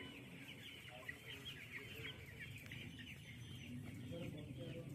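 Broiler chicks on a poultry farm, many birds clucking and peeping at once in a busy, continuous chorus, fairly soft with overlapping calls throughout.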